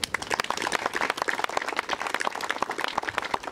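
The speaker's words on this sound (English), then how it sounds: "Please give them a round of applause." An outdoor audience at a Medal of Honor monument dedication ceremony claps in steady, fairly faint applause of many hands.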